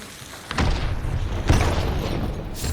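Two deep, booming grenade explosions a second apart in the video game Hunt: Showdown, each followed by a rumbling tail of debris and noise, heard at moderate loudness.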